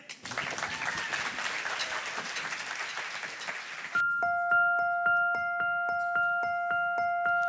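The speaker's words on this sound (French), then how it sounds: "Est-ce qu'on peut les applaudir" An audience applauds a choir at a Christmas concert in Paris with dense, sustained clapping, which cuts off abruptly to a rhythmic, repeating chime-like musical figure with steady pulses.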